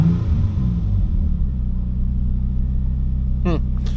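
A car engine idling just above 1,000 rpm, a steady loud low rumble close by, with a brief rising whine near the end and some talk over it early on.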